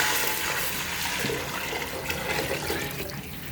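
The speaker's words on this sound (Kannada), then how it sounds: "ನೀರು ಹಾಕಾಯಿತು, ಮಿಕ್ಸ್ ಮಾಡ್ತಿದ್ದೀವಿ ನೋಡಿ." Water pours steadily into a rice pot while chicken dum biryani is cooked, a continuous rushing, splashing wash of liquid that stays close and fairly loud for the whole stretch, with no talking.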